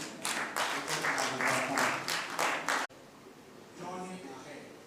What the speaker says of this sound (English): to put a round of applause for ourselves.